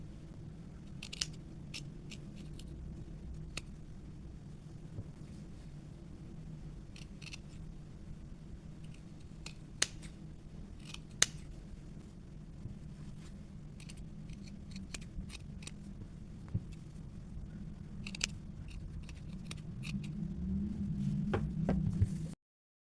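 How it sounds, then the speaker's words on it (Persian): Scissors snip away the excess seam allowance on sewn pillowcase fabric: sparse, crisp cuts spaced irregularly over a steady low room hum, with no talking. "بعد این اضافه درز رو قیچی می‌کنیم"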